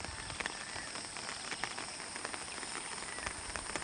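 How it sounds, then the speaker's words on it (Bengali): Heavy rain falls steadily over a flooded street, a close, dense hiss of drops with scattered sharper splashes throughout. "বৃষ্টি অনবরত চলছে।"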